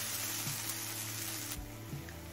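Ginger garlic paste sautéing in a pan for a chicken liver and stomach curry gives a steady low sizzle, fairly soft and continuous, with a few faint scrapes of stirring and no voices.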